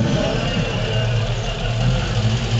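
A Simca car engine runs steadily and close by with a low rumbling hum, moving off at an even pace with no voices, at a Simca club rally in Parthenay.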